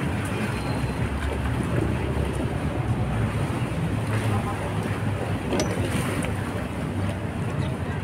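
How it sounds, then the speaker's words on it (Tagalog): A tugboat passing on the Pasig River churns up strong waves, heard as a broad rushing wash of water and engine rumble mixed with wind buffeting the microphone, steady and fairly loud throughout. "Ang lakas ng tagbot na to mga bayan, at nag-create siya ng napakalakas ng alon, no."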